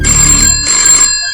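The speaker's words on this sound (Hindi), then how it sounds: "पर उसके एक दिन बाद शाम को फिर से मार्ग से फोन आया।" A telephone rings loudly in a single steady burst with a faint pause partway, close and alone with no voices.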